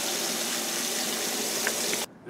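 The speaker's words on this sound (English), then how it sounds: "we're going to add water until we've got a total volume of about 3 gallons" Water gushes in a steady, loud, hissing stream into a container for a homemade deer repellent mix, then cuts off abruptly near the end.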